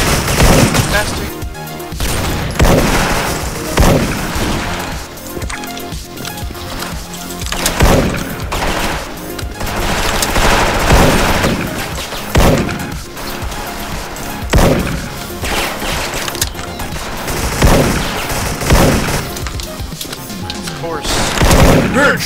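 A video game aim test with a Zowie AM-FG mouse fills with repeated gunshots and booming bursts in an irregular, rapid rhythm, loud throughout, while a player talks and shouts excitedly over the firing.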